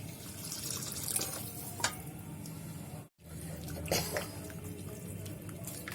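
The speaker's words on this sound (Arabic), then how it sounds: "هننزل عليها كده هنا المية السخنة" Hot boiled water pours and splashes into a cooking pan for a braised meat and vegetable dish, a steady close-up gushing broken by one brief pause.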